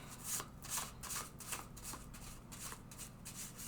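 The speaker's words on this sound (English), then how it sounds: "Give those a shuffle." A deck of cards gets riffled and shuffled repeatedly, crisp fluttering bursts coming in a quick, steady rhythm up close.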